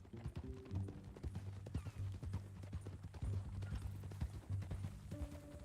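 Steady clip-clop of video game horse hooves walking at an even pace over a low background drone, with no talking.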